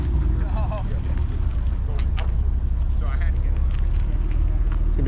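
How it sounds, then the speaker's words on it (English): Porsches roll into a morning car meet at the 21st annual Supercar Sunday Porsche Marque Day, a steady low engine rumble and wind buffeting running throughout while people chat nearby over the traffic. "Porsches are pulling in"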